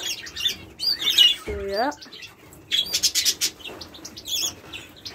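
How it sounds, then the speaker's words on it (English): Two pet canaries, a male and a female, give bright chirps and short tweeting bursts close by, while a person speaks briefly between the calls. "And here, these are 2 canaries."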